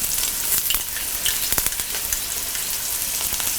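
Shallots, ginger, green chilli and garlic sizzle steadily in a hot pan for a Kerala-style chicken roast, with small crackles and pops scattered through continuous frying noise and no talking.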